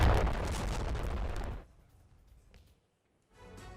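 A Russian drone explodes after striking a power line: a loud, roaring blast lasting about a second and a half, then an abrupt drop to faint rumbling and near silence before low noise returns.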